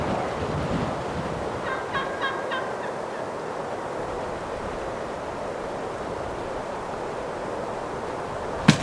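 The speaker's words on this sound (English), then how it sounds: "There's two gobblers there." Mexican Gould's wild turkeys gobble in the distance, a brief cluster of faint gobbles early on over a steady outdoor background.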